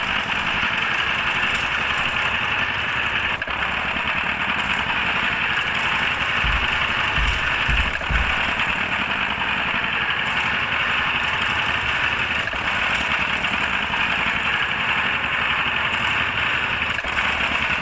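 Tractor engine idling in the Indian Tractor Simulator video game: a steady, unbroken mechanical drone that holds an even loudness throughout, with no voices over it.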